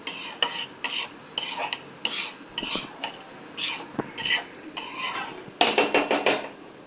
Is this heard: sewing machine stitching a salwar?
no